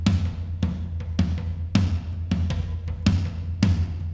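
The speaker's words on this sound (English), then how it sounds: "the first thing I actually added in was toms when it came to this chorus" Booming MIDI-played drum toms for a piano ballad chorus strike in a driving rhythm, each deep hit ringing out briefly before the next, with no voices.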